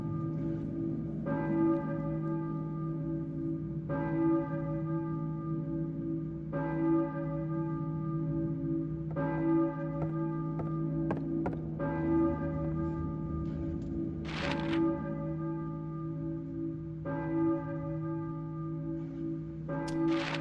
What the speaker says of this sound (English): Hear a church bell, maybe.